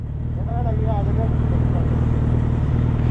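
Road traffic in Mumbai, a steady rumble of car and motorbike engines close by, with people talking over it throughout.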